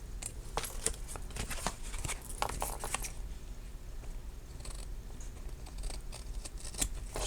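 Scissors snip off the ends of a paper tunnel tag in a run of quick, crisp cuts during the first three seconds, followed by softer paper rustling. No one speaks.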